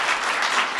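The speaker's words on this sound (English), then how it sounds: "can you really give him a loud round of applause?" A career expo audience applauds steadily at close range, a dense, even wash of clapping that holds without a break for under a second.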